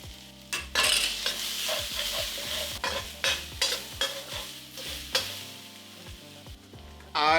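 Garlic, ginger and scallions stir-fried in oil, a bright sizzle punctuated by repeated rhythmic scrapes and taps of a utensil against the wok, close and loud with no talking.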